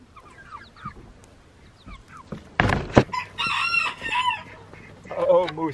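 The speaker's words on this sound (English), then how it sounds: "Do we still have 4 chickens in here?" Chickens cluck nearby in a barn while a rooster crows loudly, with a thump partway through and some brief background voices.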